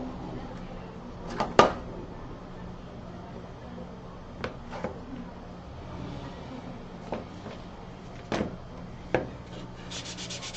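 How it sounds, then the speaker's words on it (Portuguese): Fine sandpaper worked along the edge of a box: soft continuous rubbing, close and quiet, broken by a handful of sharper scratchy strokes at irregular intervals. "com a lixinha fininha, ó, eu faço esse acabamento"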